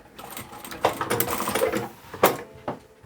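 A sewing machine stitches the seams of a stackable fabric storage basket with stabilised fabric, running in short uneven bursts with brief pauses and a couple of sharper clacks, close and fairly loud.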